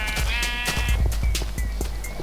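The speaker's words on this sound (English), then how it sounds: "Shoo. Sheep." A sheep bleating in the Minecraft video game: one short, wavering bleat up front, followed by soft clicking steps and thin ambient game sounds. No one talks.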